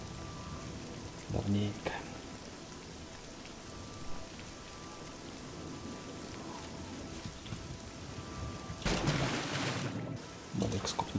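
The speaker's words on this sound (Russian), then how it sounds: "В Чейдинхолле, как обычно, дождь." Rain falls steadily in the town of Cheydinhall in the Oblivion video game, a constant hiss of drops on surfaces, with someone speaking briefly over it and a louder gust of pattering near the end.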